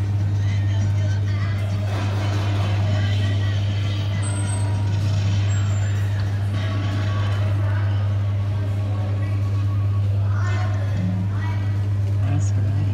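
An Amutec Scooby Doo Mystery Machine kiddie ride with a broken video screen runs with a constant low motor hum and faint background clatter, while a voice talks over it.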